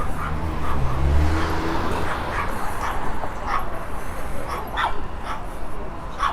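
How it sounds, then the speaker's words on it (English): Dogs yip, whimper and bark in scattered bursts while sizing each other up outside a street cafe at night, set against steady traffic and crowd noise. "Got some dogs here battling each other"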